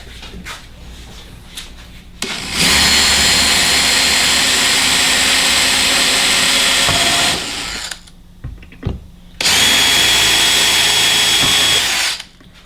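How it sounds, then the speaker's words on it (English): A power drill boring holes to mount a reversible pilot seat on a Montauk or Outrage boat, two loud sustained runs of steady whine separated by a short pause with small handling knocks. "Alright, got that side drilled."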